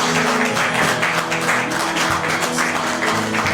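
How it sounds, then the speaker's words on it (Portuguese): Louder, sustained clapping from a church congregation fills the room, a thick continuous wash of many hands with a tonal music bed beneath it. "Aplauda mais forte."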